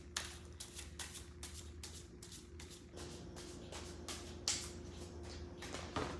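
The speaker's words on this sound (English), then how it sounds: "Alright, just shuffling the deck." A deck of tarot cards being shuffled at a live reading, giving soft repeated riffling bursts against a steady low hum in a quiet room.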